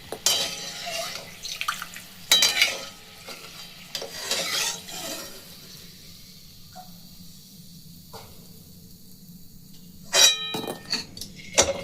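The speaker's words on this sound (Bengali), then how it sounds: "আমি সবগুলোকে এখন ভেজে নেব।" Nikhuti sweets fry in refined oil over a low flame, with soft bubbling broken by bursts of scraping and stirring against the pan and a quieter stretch in between.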